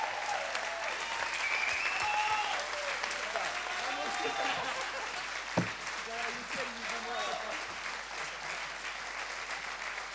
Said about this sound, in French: Et on vous laisse savourer. Applaudissements encore.